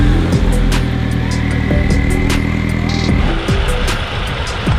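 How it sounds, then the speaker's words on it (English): A car engine runs loud and close with a steady low rumble and dense mechanical hum, and sharp ticks and clicks sit on top throughout, alone without talking. "I'm gonna turn the car on for a quick second."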